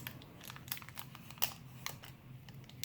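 Scissors cutting into a crinkly foil Star Wars trading card booster pack from a Death Star II booster box, a quiet series of crisp snips and plastic crinkles, heard alone.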